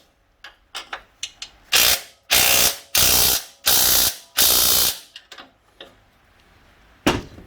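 A hand spanner ratcheting on a Honda CB750 K2 motorcycle part in a workshop: quick light clicks at first, then several loud, sustained ratcheting bursts in steady rhythm, close up, followed by a few sparse clicks.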